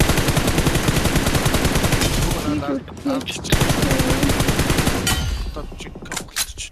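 Loud, rapid bursts of automatic gunfire in PUBG Mobile, nearly continuous with a few brief pauses between volleys.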